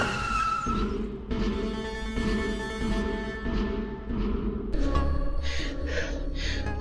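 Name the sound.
car pulling over and skidding to a stop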